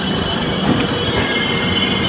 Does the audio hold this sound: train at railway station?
yes